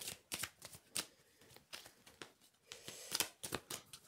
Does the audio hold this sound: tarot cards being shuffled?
yes